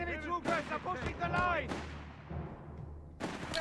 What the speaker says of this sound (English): Shots being fired here and there.